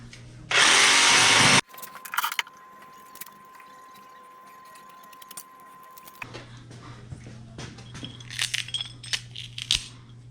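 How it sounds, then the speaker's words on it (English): A wooden 2x4 board being cut with a power tool in a workshop, a short, loud, close burst of cutting noise near the start, followed by quieter handling clatter and knocks. "so I'm just gonna cut the 2x4 there."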